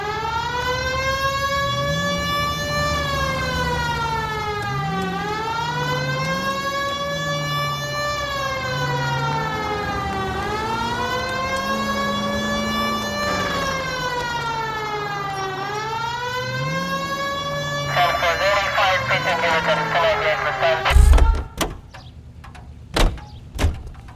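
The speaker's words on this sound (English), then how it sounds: "Hit the siren." A police car siren wails in L.A. Noire in repeated rising and falling sweeps for about twenty seconds, loud and close. Near the end it stops with a few sharp knocks and clunks.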